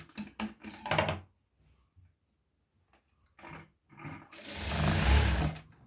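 A sewing machine stitching saree blouse lining, close by, in a few short bursts of rapid stitching, with a longer steady run near the end and quiet pauses between.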